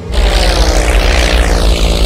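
An airplane engine drones loud and close in a Telugu comedy film scene, a steady, heavy roar with a throbbing low rumble and no pauses.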